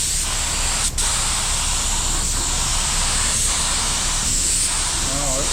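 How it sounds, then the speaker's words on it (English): A DIY spray gun sprays paint, hissing steadily, a dense pressurized spray sound that keeps going with only brief dips, close and loud throughout. "that sprays really good like that"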